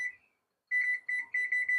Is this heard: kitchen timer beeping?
yes